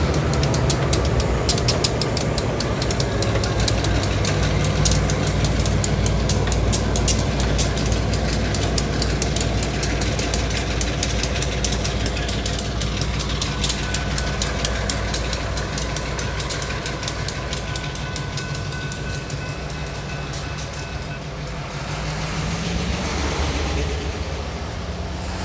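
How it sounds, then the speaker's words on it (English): Switcher and Geep diesel locomotives working a rail yard in the rain, a steady close motor drone with rail rumble and rain hiss, holding constant throughout without speech. "Listen to these motors."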